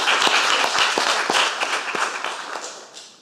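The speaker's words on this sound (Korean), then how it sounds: "여러분들 한번 힘차게 격려의 박수 한번 주시겠습니다." Congregation applause inside a church during a Sunday praise service, a burst of close, distinct hand claps that is strongest at the start and slowly thins and fades toward the end.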